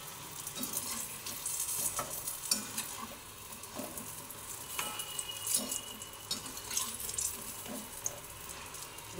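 Brinjal pakoda fries crisply in hot oil, a continuous sizzle with occasional stirring and scraping sounds throughout, heard up close without any talking.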